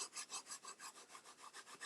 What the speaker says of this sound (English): give that a nice rub, burnish that cardstock so that the glue is distributed well